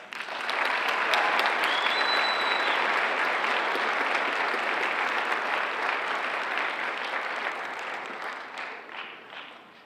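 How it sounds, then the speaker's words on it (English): Sustained audience applause fills a school assembly hall for a Hall of Fame and National Honor Society event, loud and dense from the start, then slowly easing over about ten seconds with no talk on top. "would you please join me in giving her a round of applause?"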